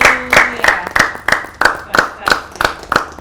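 An audience claps together in celebration on a marriage chat show. Sharp claps land in a steady rhythm, about three per second, loud and close.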